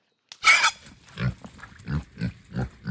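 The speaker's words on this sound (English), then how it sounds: "You just heard our pigs grunting at us and getting shocked by the wire." Homestead pigs kept in a forest paddock behind electric poly wire give a sharp squeal followed by a run of low, rhythmic grunts, close by and loud.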